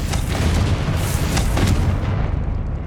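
Fiery Confringo spell blast in Hogwarts Legacy on PS5, a loud booming explosive burst with a rumbling low tail that rolls on for a few seconds before easing off.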